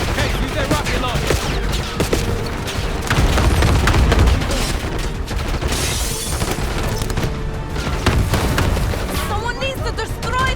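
Call of Duty Black Ops 6 combat crackles with dense bursts of gunfire, booming rocket launcher blasts landing around the three- and eight-second marks, and shouted voices mixed loudly into the battle.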